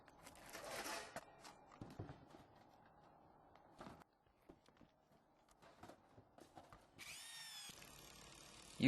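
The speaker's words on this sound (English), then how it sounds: "Using an electric impact wrench, lag screws are screwed into the pre-drilled holes." Electric impact wrench driving lag screws into pre-drilled holes for solar roof mounts, with short faint bursts separated by quiet handling noises and a louder whirring burst near the end.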